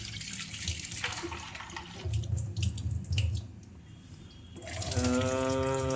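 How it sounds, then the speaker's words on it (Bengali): Vegetable peels are rinsed under a running tap, the water gushing and splashing close by as its flow shifts, then filling a vessel with a rising gurgle at the end, and no one talks. "হালকা করে ধুয়ে নেওয়া হচ্ছে ভালো করে"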